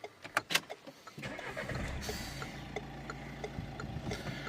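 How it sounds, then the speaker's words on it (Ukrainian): A few sharp clicks, then a 2014 Renault Megane 1.5 dCi diesel engine cranks, catches and settles into a steady, rumbling idle. "Зараз спробуємо завести, послухаємо, як він працює."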